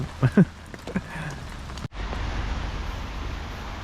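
Rain falls steadily outdoors at a carp fishing spot, a broad even hiss that continues after a few brief knocks near the start.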